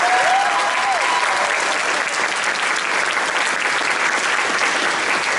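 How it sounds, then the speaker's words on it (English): A concert audience at a high school jazz ensemble performance gives a solo loud, dense applause that stays steady for the whole stretch, with a brief whistle near the start. "give Trevor a round of applause for the solo on that tune."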